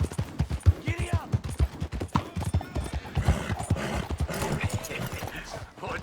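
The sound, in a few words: horse galloping hooves in the video game Red Dead Redemption 2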